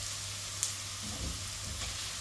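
Turkey gizzards fry in a pan with onion, giving a steady, close sizzle with a few light stirring clicks.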